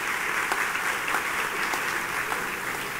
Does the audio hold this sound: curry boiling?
no